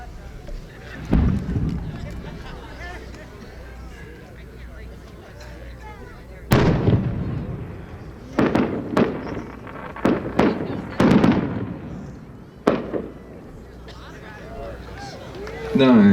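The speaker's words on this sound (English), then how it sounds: "The next one is a 12-inch shell of shells." A 12-inch shell-of-shells firework at a winter pyrotechnics show bursts in a series of sharp booming cracks and crackling reports, scattered over several seconds, with a crowd talking between them.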